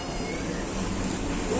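A house cat meows in a drawn-out, whiny call close by against a dense background hum.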